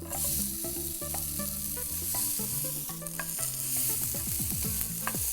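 Onions sizzle and fry over a strong flame with paneer tikka marinade, a steady loud hiss with stirring clatter from the utensil throughout, close up and without talk.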